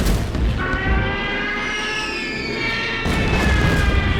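A Stuka bombing strike in the Order of Battle strategy game, a diving aircraft whine with descending tones followed by heavy booming explosions, loud and close.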